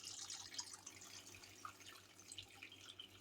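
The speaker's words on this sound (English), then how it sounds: "So now I'm going to put some water in here, good fresh rainwater." Fresh rainwater is poured into a container holding ginger pieces being started for planting, a faint, quiet trickle and splash with no talking.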